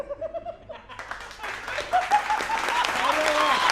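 Studio audience applause at a political talk show about the 2025 Delhi election, swelling from scattered claps into steady, fairly loud clapping with some laughter, after a brief voice at the start.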